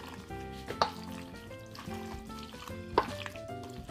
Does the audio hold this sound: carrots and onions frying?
yes